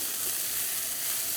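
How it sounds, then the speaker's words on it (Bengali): Onions frying in a pan over a medium flame, a brief steady hissing sizzle heard close up with no speech. "পেঁয়াজটা দেওয়ার পরে ফ্লেমটাকে মিডিয়াম রেখে আপনাদের ভালো করে এটাকে একটু ভেজে নিতে হবে।"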